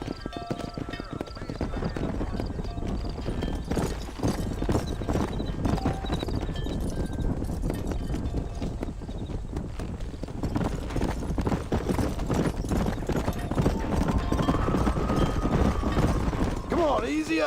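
Hooves clip-clop in a continuous, uneven patter as a herd of horses is driven out to pasture in the Red Dead Redemption remaster, with occasional whinnies and a man calling out over the trotting.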